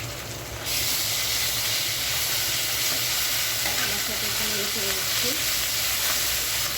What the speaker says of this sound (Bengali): সম্পূর্ণ মশলাটা তেলের ভিতরে ভেজে নিচ্ছি